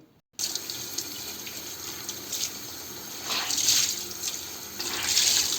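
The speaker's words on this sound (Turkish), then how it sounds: "bu bezimi yıkayacağım" A cleaning cloth is washed under a running tap at a sink, the water gushing steadily and swelling louder as the cloth is worked through the stream, close up with no talking.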